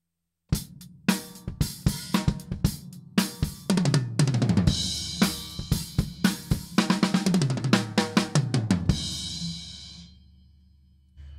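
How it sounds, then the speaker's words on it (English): A drum kit plays a beat with single-stroke-seven and single-stroke-four fills woven in: dense, loud, close strokes with cymbal wash, ending in a ringing decay. "Single stroke seven, incorporated with the single stroke four, with a drum beat, could sound like this."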